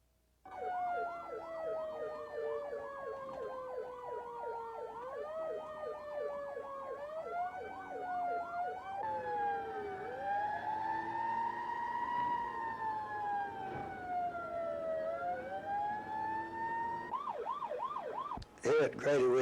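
A 1967 ambulance siren at Grady Hospital sweeps up and down continuously, loud and close, shifting between slow wails and quicker yelps before a sharp burst at the end.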